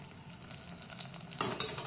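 Khichdi freshly topped with tadka is stirred, producing soft scraping and a quiet sizzle that swells briefly near the end, with no voices.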